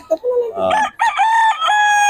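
A rooster crows loudly and close by in one long, drawn-out call, with a few short clucks just before it.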